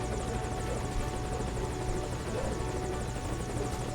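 Helicopter from Metal Gear Solid V: Ground Zeroes, its rotor drone steady and close, a dense continuous whir with rapid chopping pulses that holds unbroken throughout.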